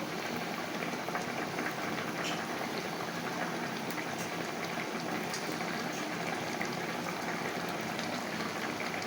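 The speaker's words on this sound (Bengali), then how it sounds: "ভোলা মাছের ঝোলটা খুব ভালোভাবে ফুটে গেছে" Bhola fish curry boils in a pot with a steady, even bubbling hiss that holds at a constant low level throughout.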